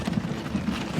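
Horse hooves clip-clopping in the video game Transport Fever 2, a light, quick run of soft hoof taps over a low background hum, faint and fairly steady.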